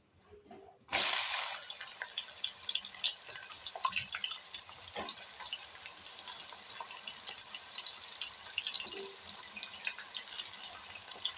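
Onions frying with whole spices such as peppercorns, mace and bay leaves in a pan for pulao, a steady close sizzle that starts abruptly after a moment of quiet and holds evenly, with faint crackles throughout and no talking.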